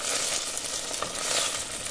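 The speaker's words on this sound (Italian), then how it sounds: "girate del tutto e fate soffriggere, di fare prendere un po' il sapore" Garlic and black olives sizzling in a pan, a steady, dense crackle and hiss of frying oil throughout, close and continuous with no voices.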